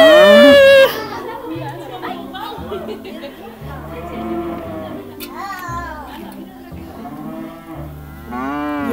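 A cow moos loudly in a long low call at a farm, followed by children's and adults' chatter and a brief second moo-like call near the end.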